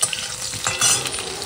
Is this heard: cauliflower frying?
yes